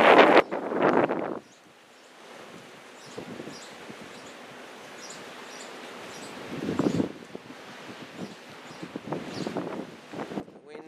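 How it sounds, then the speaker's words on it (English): Strong gusting wind buffets the microphone on a seaside boardwalk in Seaside Heights during a 2016 wind storm, with loud roaring bursts at the start and around the middle over a steady blustery rush, while a person speaks briefly. "Windy day here in Seaside."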